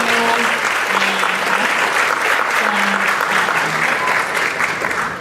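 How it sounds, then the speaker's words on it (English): Audience applause at a pension reform forum for the superintendent, a dense steady wash of many hands clapping at close range, with faint voices underneath and a slight fade toward the end. "If you will give a round of applause for him."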